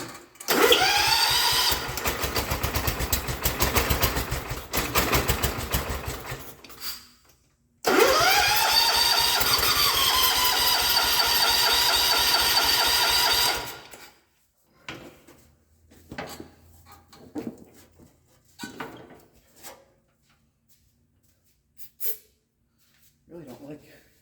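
A Kohler K341 engine on a 1979 John Deere 216 tractor with a carbon buildup problem, cranking and roaring loudly in two long bursts separated by a brief pause, then cutting out to quiet with scattered small clicks and knocks.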